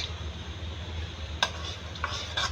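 Semolina roasting in oil, stirred in a pan: a soft, faint sizzle runs throughout, with a few light scraping clicks from the spoon near the end.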